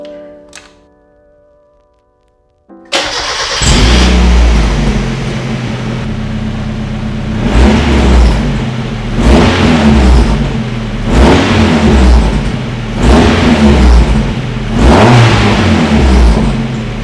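A Mazda Miata engine with fresh spark plugs starts after a quiet pause, then idles and revs repeatedly in loud rising surges, close by, with no talk.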